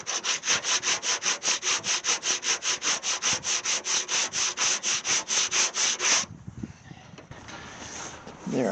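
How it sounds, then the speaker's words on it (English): Soft Bondo body filler on a 1968 AMC AMX front quarter panel being shaped with 40-grit sandpaper, with close, loud, rhythmic back-and-forth rasping strokes that stop abruptly, followed by quieter handling noise. "This Bondo's still kind of soft, so I'm just shaping it."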